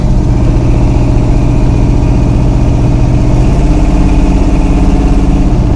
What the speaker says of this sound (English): In neutral it seemed to rev just fine, but under a load it don't like it